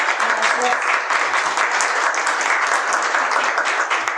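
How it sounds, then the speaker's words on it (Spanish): Audience applauding a woman named Mónica as she is welcomed at a talk on women, pleasure and rebellion: dense, steady clapping from a crowd that fills the whole stretch at an even, loud level. "Les pido un aplauso para Mónica"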